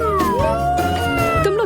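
A voice imitates a cat's meow, a long sustained tonal mew with rising and falling pitch that fills the whole short clip, close and clear.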